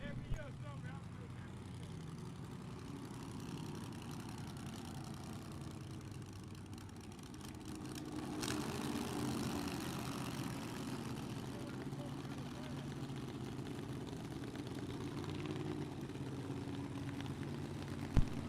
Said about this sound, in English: they have fired up the engines for the final 2 cars